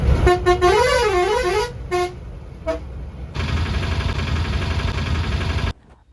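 Bus ride through Pondicherry traffic, a loud warbling musical horn sounding repeatedly over a steady engine rumble, then a long continuous honk before the noise cuts off.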